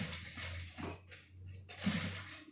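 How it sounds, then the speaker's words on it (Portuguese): Sewing machine stitching around the pocket of a zippered bag, a close whirring run that briefly stops and then starts again. "E agora eu vou descer e costurar todo o meu bolso."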